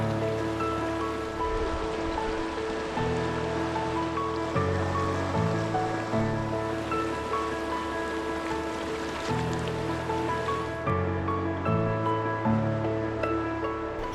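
Icy water in Takakkaw Creek rushes in a continuous, hissing flow at moderate volume beneath a stepping melodic music track.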